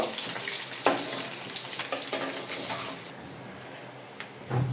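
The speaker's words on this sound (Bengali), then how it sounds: "ডিমটা বসানোর জন্য আমি এখানে কাঁচামরিচ ফালি এবং পেঁয়াজ কুচি দিয়ে দিলাম। এটাকে আমি একটু ভালো করে ভেজে নিব।" Sliced green chillies and chopped onion frying in a pan after eggs are removed, a gentle steady sizzle with occasional stirring scrapes and clinks, fairly quiet and close.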